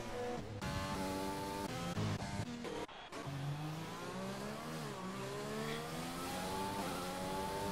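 A race car engine from an Xbox racing game at the Chinese Grand Prix wails continuously and loudly, its pitch climbing and dropping through quick gear changes as the car works around the circuit.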